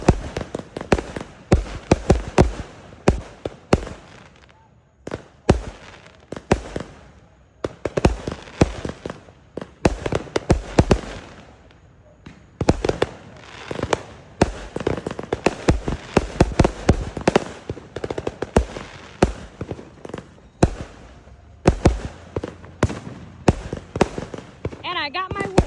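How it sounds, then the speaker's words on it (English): Outdoor fireworks show with rapid, loud cracking and popping bursts, many irregular clustered bangs and short gaps, while people talk and react nearby. "To see fireworks."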